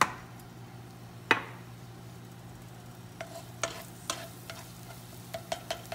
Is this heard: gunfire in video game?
no